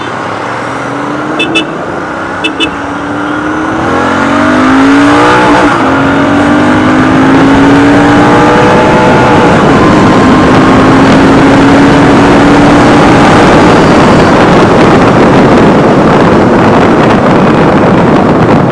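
Royal Enfield Continental GT 650 with its stock exhaust being ridden, the twin-cylinder note climbing through revs with a gear change midway, then held under loud rushing wind buffeting the microphone.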